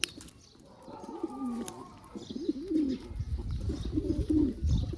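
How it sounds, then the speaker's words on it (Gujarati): A pigeon perched on an overhead wire coos in repeated soft, rolling calls close by, with light rustling and faint chirps behind it. "ઓલા તાર ઉપર બેઠું ને જે કારું દેખાય ને એ કબૂતર છે ને આવ્યું છે ક્યાંકથી"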